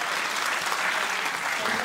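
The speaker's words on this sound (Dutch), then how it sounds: "Geef ze een applaus." Continuous, full applause from a singing competition audience as two contestants head to the green room, an even wash of clapping throughout.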